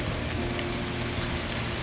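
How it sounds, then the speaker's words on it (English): Rain patters steadily onto a backyard garden with flower beds and a lime tree. It makes a soft, even wash of drops with a low background hum and no speech. "But it's rain picking up, and I'm about to skedaddle."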